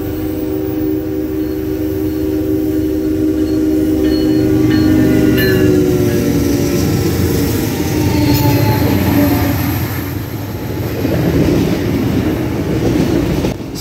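Freight train with an SD60E-era consist, locomotive 3405 trailing third of three, rolling past close and loud with a steady rumble of wheels, some squealing and tonal engine drone throughout, no voices.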